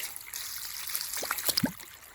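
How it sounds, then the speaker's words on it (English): Water trickling and gurgling out of two newly installed water lines fed from a well as they are flushed, a soft splashing flow with brief louder spurts near the end. "We got water coming out the 2 lines"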